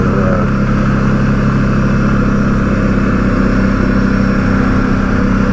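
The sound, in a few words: ATV engine driving on a trail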